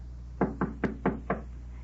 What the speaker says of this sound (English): there is a knock on the door